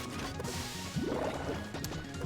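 An up smash attack lands in a fighting video game with a sharp crash and thwack, a couple of hits over busy game effects and music.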